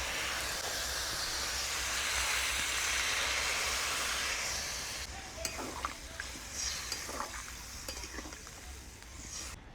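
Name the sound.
spice water added to vegetables cooking in pan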